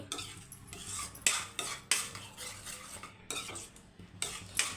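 A spoon stirring ghee into flattened rice payasam in a metal pot, repeated scraping and clinking strokes in an uneven rhythm, close and moderately quiet.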